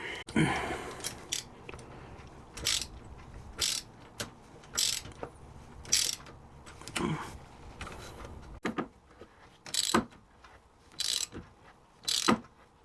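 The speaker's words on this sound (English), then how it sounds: "Right, let's get these tightened up." Ratcheting and mechanical clicks come in short bursts while the Givi radiator guard bolts are tightened on a Suzuki DL800SE V-Strom. The bursts repeat at irregular intervals, close and fairly quiet.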